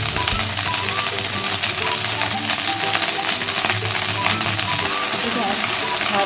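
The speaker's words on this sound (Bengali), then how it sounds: "ওই তেলের মধ্যে আমি সজনে শাকগুলো দিয়ে দেব।" Drumstick leaves frying in hot oil just after browned onions come out, a continuous dense sizzle and crackle with scattered pops, close and steady throughout.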